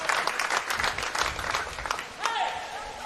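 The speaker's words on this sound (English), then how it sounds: "A lot of applause in the crowd here." Crowd applause rises from the stands at a women's water polo semi-final, a steady broadband patter of clapping that swells briefly near the end, heard amid busy talk and crowd noise.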